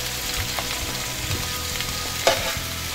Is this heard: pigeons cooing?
no